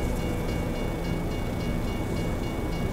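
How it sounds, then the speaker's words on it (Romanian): A train rolls past in American Truck Simulator's Arkansas map, a steady, loud rumbling wash of wheels and cars that holds at an even level throughout with no voices. "Uite, bă, că trece trenul, frate."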